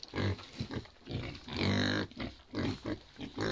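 Vietnamese pot-bellied pigs in a farmyard give loud, close grunts and snorts in repeated bursts, with brief pauses between them.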